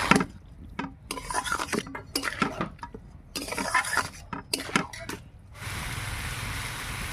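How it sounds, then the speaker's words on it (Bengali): Chicken pieces go into a pot of fried masala, bringing close clatter and scraping of a utensil against the pot in irregular bursts, then a steady hiss in the final seconds, with no talk. "এবার আমি চিকেনটা ছেড়ে দিচ্ছি।"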